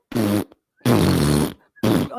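A person imitates a fart with the voice, making three drawn-out, buzzing blurts of which the middle one is longest. The sounds are close and loud and separated by brief silences.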